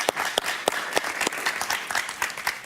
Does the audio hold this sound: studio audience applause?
yes